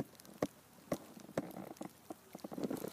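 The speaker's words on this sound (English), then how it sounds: "It's sleet." Sleet falling outdoors, a scattered patter of icy pellets ticking irregularly on surfaces nearby, with a few sharper close hits standing out over a steady light crackle.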